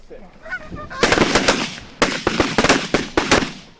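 Rapid shotgun blasts ring out during an early-season goose hunt in New York, a sharp volley of about eight loud reports in two bursts, preceded by honking geese calling overhead.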